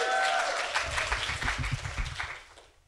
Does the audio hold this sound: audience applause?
yes